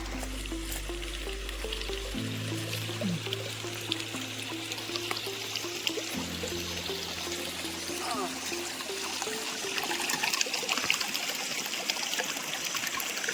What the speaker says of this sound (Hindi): ऊपर जंगल से निकलता हुआ ये शुद्ध जल, ऊपर पूरा जंगल है।